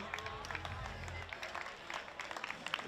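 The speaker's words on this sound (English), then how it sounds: "some nice polite applause" Polite applause from a Netherlands race track crowd, a thin spread of light hand claps with brief peaks, fairly quiet against the background murmur.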